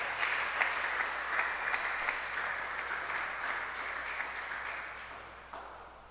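A church congregation applauds steadily for several seconds, the clapping dense at first and slowly thinning and fading toward the end.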